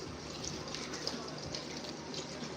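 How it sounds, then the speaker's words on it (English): Water runs steadily from a sink tap in a home bathroom, a constant close hissing stream that holds at an even level throughout. "Oh, I hate this sink water."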